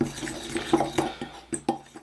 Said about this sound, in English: To that, we're going to add a tablespoon plus a teaspoon of half and half. And we're just going to whisk it together.